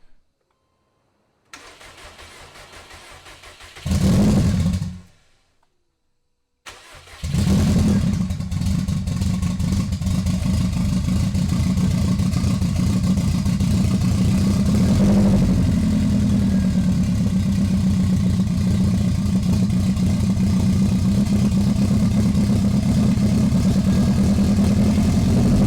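After a couple of cranking attempts, a Subaru Legacy GT with a swapped EJ257 engine fires up and runs loudly and steadily nearby, with a brief rev partway through.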